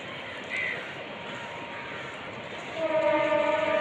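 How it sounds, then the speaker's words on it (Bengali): A train approaching with a low rumble that grows louder, then a tonal horn-like hum rising near the end; no talking. "ট্রেনের আওয়াজ পাচ্ছি ট্রেন হয়তো চলে আসছে"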